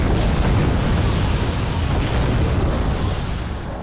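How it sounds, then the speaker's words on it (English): Artillery fires at ships in the naval war game Wargame: Red Dragon, a loud, rumbling wash of booms and blasts that runs without a break and fades slightly toward the end. "Chinese are firing at our ships with artilleries"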